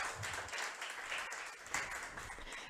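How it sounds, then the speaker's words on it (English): Applause at an international forum, heard faintly as a thin stretch of clapping that swells and fades, with little else audible. "Those applause were for you."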